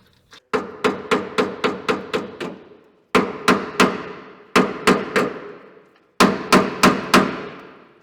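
Hammer blows on a bolt driven into the bore of a 1964 Jeep CJ5, sharp metallic strikes in quick bursts of several hits separated by short pauses, close and loud.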